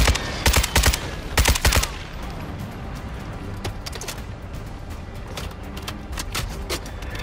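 Bursts of automatic gunfire in a Call of Duty Modern Warfare II DMZ match, loud rapid volleys in the first two seconds, then scattered sharper shots over a steady background of game noise.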